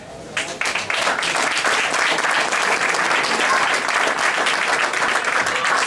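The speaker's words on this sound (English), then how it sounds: "Have a warm round of applause for Mr. Wagstaff." An audience claps in sustained, dense applause that rises quickly and holds at a steady loud level for several seconds, with no voices over it.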